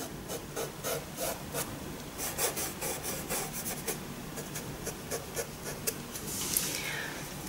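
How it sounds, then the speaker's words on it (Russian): A finger rubs dry pastel into paper, a steady soft scratchy swishing in close, repeated strokes that continue without pause. "Теперь можно попробовать чуть-чуть дотушевать пальцем."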